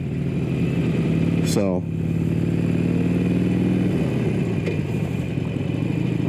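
A Harley-Davidson motorcycle engine rumbling while riding through a neighborhood, a steady low drone with a brief rev and shift, under someone talking.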